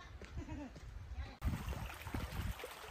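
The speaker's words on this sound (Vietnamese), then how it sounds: "Đây, dưới đây là suối," A steady, gentle trickle of a stream flowing behind a plot of land in rural Cư M'gar, Đắk Lắk, runs as soft continuous background under someone talking nearby.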